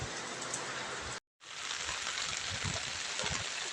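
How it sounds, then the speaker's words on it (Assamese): Steady rain pours outdoors under a darkening sky in hilly country, a dense, even hiss broken by a brief silent gap, with no voices. "এতিয়া চাওকচোন বৰষুণৰ অৱস্থা কিমান"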